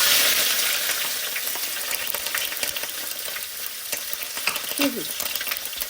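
Loud, close sizzling of coconut pieces frying in hot oil after mustard seeds have spluttered, a dense crackling hiss that settles slightly, with occasional stirring scrapes and pops.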